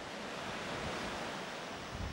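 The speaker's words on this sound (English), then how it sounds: "the full flow of the Jhelum River" The Jhelum River flows in full spate below the Pir Panjal Mountains, a steady, even rush of water with no breaks or voices, faint and continuous throughout.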